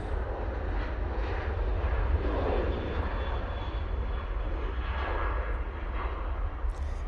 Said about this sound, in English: There goes the Ryanair 737.